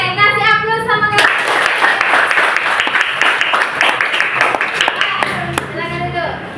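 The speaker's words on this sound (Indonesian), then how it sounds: "kasih aplaus sama kita" An audience claps for the presenters at the end of a school coaching presentation, a loud, dense burst of applause lasting several seconds, with a voice speaking just before it starts and again as it fades.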